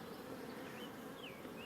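A honey bee drone buzzes with a faint, steady drone held close by, rising and falling slightly in pitch in quiet outdoor surroundings.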